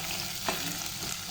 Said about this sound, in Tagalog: So gisa-gisa lang natin yan.